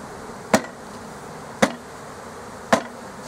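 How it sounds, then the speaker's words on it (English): A beekeeper shakes honeybees off a nucleus hive frame in a steady rhythm of three sharp knocks about a second apart, with a low buzzing of bees humming underneath throughout. "Just going to shake these few bees out here."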